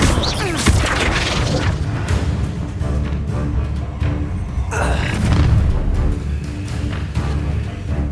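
An Incendio fire spell is cast in Hogwarts Legacy amid combat, giving dense booming and crashing blasts that roll on continuously at close range, with a few faint voices underneath.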